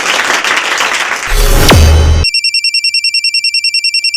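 Phone ringtone of an incoming call, a loud, bright electronic ring pulsing in a fast steady pattern, cutting in abruptly after a burst of noise with a sharply falling sweep.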